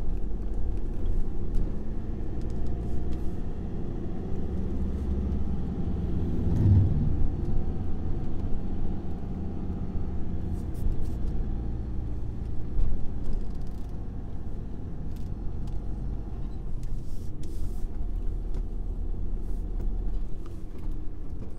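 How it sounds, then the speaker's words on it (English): Steady road traffic on a busy street in Guernsey, a continuous low rumble of car engines and tyres that swells and fades slightly as vehicles pass nearby, with no talking. "Bit of traffic up here, there's always a bit of traffic around here,"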